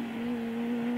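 A motorcycle engine drones at a steady pitch with a slight rise, a short burst of revving during a rev-matched downshift. No one speaks.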